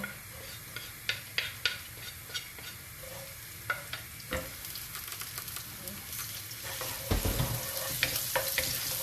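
Garlic fries in a pan for palabok, soft sizzling underneath sharp clinks and scrapes of a utensil stirring against the pan at an irregular pace.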